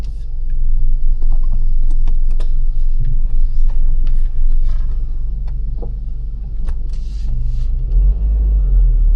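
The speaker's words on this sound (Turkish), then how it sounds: "Öyle işte neyse bir arabayı çalıştırayım." A car engine rumbles loud and close throughout, steady low drone with slight swells as it pulls away and drives along a road, recorded up near the vehicle.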